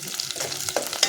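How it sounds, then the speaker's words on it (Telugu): Chopped onion and ginger sizzle steadily in hot oil for a tempering, a close, continuous crackle broken by light stirring scrapes in the pan. "నూనె పొయ్యి మీద పెట్టి కొంచెం ఉల్లిగడ్డ కొంచెం అల్లం తాలింపు వేసిన."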